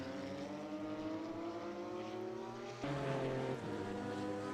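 Two race cars, a Radical and a Porsche, battle closely at speed around the Hockenheimring GP circuit, their engines droning loudly with rising pitch and a sharp gear-shift change partway through, no voices heard.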